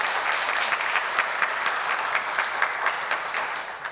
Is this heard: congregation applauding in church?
yes